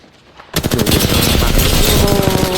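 Rapid automatic gunfire in Apex Legends erupts after a quiet half second, dense sustained bursts filling the rest of the moment, loud and close.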